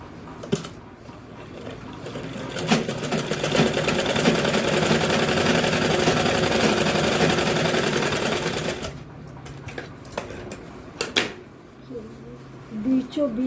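A sewing machine stitches fabric in one steady, loud whirring run of about nine seconds, then stops; someone speaks in the quieter stretches around it.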